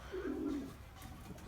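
A Paral pigeon coos once, a soft low throaty burble lasting about half a second, close by against a faint background hum.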